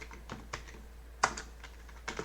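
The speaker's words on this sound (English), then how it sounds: "So let's type that in first" A few scattered keystrokes on a computer keyboard, close and fairly soft, with irregular pauses and one sharper clack in the middle, no talking.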